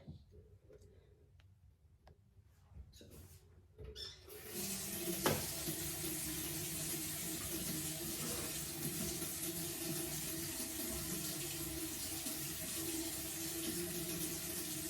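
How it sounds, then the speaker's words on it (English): Water runs from a tap at a bathroom sink for washing a face with Panoxyl creamy wash: a few soft clicks and handling sounds, then a steady close rush of running water. "And I'm gonna go in and wash my face with that."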